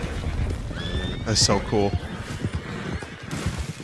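Horses in Red Dead Redemption 2 whinny and clip-clop as they run off at sunset, a sharp neigh rising over steady game ambience while a person talks over it.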